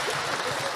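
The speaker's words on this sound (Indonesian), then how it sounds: "Tepuk tangan untuk yang punya hutang hari ini" Brief, fairly faint patter of audience applause at a religious lecture, a short burst of scattered clapping.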